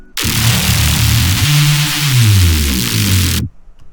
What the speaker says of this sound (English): that's a pretty complicated reese, not like the usual reese that we find with a sine wave